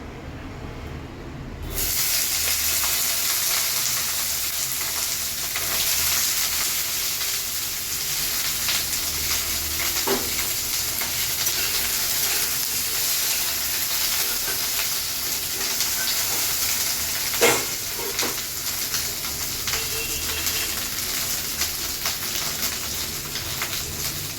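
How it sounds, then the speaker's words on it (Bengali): Okra frying in hot oil gives a steady, loud broadband sizzle that runs unbroken throughout, with a couple of faint clicks partway through and no voices. "এবার গরম হয়ে গেছে এবার আমি দিয়ে দেবো ঢ্যাঁড়সগুলো"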